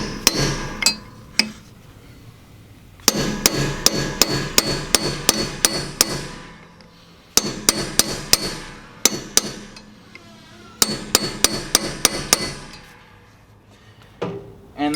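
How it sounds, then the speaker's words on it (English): A hardened steel punch is struck with a hammer to flare a spark plug thread insert into the aluminum head of a Ford 6.8 liter V10, giving bursts of sharp metallic blows in quick clusters separated by short pauses. "So I just put a punch on the end of it."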